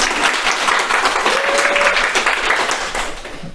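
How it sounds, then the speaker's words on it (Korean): Parents at a lecture in Anseong High School applaud a teacher, a dense, even wash of clapping from a seated audience that holds steady for a few seconds, with faint voices underneath. "박수로 한번."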